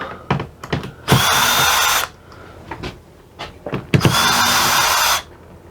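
Power drill backing screws out of a Coleman air conditioner unit, two sustained whirring bursts of about a second each, loud and close, separated by short clicks and handling knocks.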